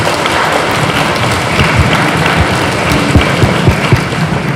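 Audience applause for a school headmistress at a National Education Day ceremony in a Biała Podlaska primary school, a steady wash of many hands clapping with a few louder thuds, continuous for several seconds.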